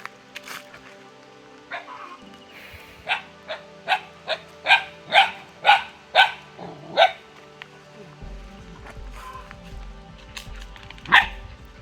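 Dogs barking near a farm field, a run of about ten sharp barks in quick succession building to a loud middle burst, then a pause and one last bark, with some faint background sound.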